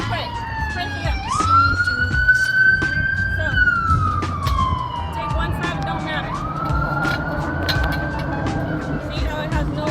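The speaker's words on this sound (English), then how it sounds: "Forget about the ambulance." An ambulance siren wails loudly and continuously, sweeping up and down in long tones as it passes outdoors at a farmers market, while someone talks over it.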